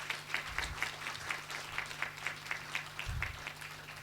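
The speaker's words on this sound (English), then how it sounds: "can we just give a lekker round of applause to the beautiful couple sitting here this evening" Guests at a wedding reception applaud the newlywed couple, a moderate rhythmic patter of clapping with a steady beat, heard at a slight distance with a low hum underneath.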